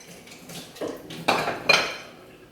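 A cooking pot being set down and handled on a stove over a small flame: a few metallic clanks and scrapes, with two sharper knocks near the end, close by and moderately loud, with no talking.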